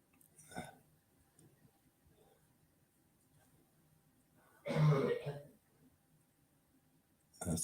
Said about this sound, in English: Let's see if you can hear coughing in the background.